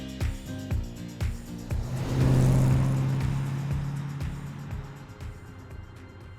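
A 1963 Corvette Sting Ray engine rises into a loud, sustained rev from near, then settles into a steady idle-like drone, with a few soft thumps scattered around it.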